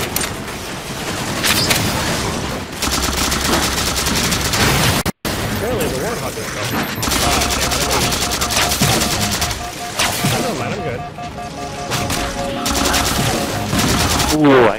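Sniper shots and rapid gunfire in the shooter game Halo 4 on Legendary, loud bursts of shooting and explosions running almost continuously, with players talking over the action.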